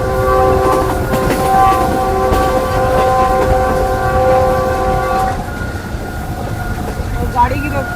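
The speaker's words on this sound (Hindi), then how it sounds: "गाड़ी की रफ्तार 105 किलोमीटर फी घंटा चल रही है।" Green Line passenger train between Lahore and Karachi running at about 105 km/h, with a long sustained horn blast over the loud rumble and clatter of the wheels, which continue after the horn stops.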